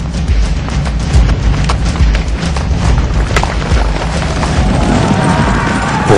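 Heavy rumbling hoofbeats of many galloping horses thunder loudly and continuously, with booming crashes mixed into the dense, driving roar.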